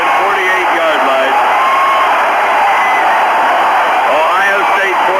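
Stadium crowd at an Ohio State vs Michigan football game roaring and cheering in a steady, loud, continuous wall of noise, with an announcer's voice calling the play over it.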